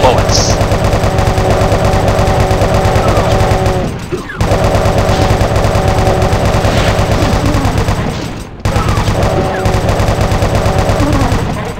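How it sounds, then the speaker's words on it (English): Rapid, sustained chain gun fire from the Doom video game, a loud continuous mechanical rattle that briefly cuts out twice before resuming, with no talk over it. "Start using the chain gun."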